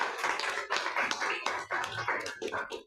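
Applause at a press conference held by a ward-level political group, a crowd clapping in uneven bursts with irregular pauses, close and fairly loud, with no one speaking.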